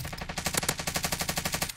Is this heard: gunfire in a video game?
yes